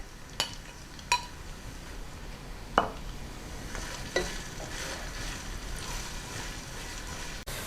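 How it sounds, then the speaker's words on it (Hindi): Sliced onions fry in a cup of oil in a pan for jackfruit biryani, a soft steady sizzle with a few clinks and scrapes of a spoon stirring against the pan, quiet and close, without speech. "पैन में हमने 1 कप ऑयल लिया है और इसमें हम ये स्लाइस की हुई प्याज डालेंगे और इसे गोल्डन ब्राउन करेंगे"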